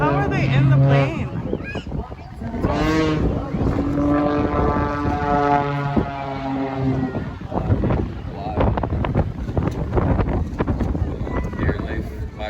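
A Red Bull aerobatic propeller plane performs at an air show in the Cayman Islands, its engine drone rising and falling in pitch as it maneuvers overhead, with wind buffeting and people talking excitedly close by.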